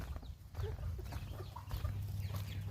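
Free-range chickens on an organic farm cluck softly in scattered short calls over a low rumbling background, faint and fairly distant.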